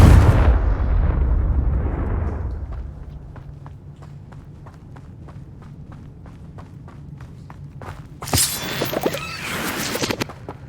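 A Confringo fire spell explodes in the Hogwarts Legacy video game: a loud rumbling opening gives way to steady rhythmic footsteps, then a sharp, bright blast erupts near the end and crackles for about two seconds.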